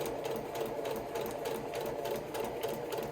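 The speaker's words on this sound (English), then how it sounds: "I'm just sewing right on that line between 1 and 2." A sewing machine stitches a quilt seam with a fine stitch length, producing a steady, rapid mechanical chatter that is soft and continuous throughout.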